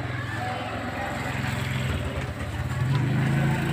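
A Yamaha F1ZR motorcycle engine with a racing modification runs steadily with a low droning hum, revving slightly louder near the end, close by.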